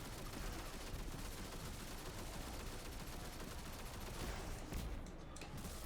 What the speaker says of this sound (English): Now use the machine gun.